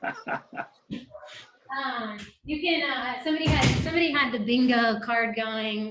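A pet dog barks and yips close by in a home while a person keeps talking over it, the sharp barks punctuating the speech.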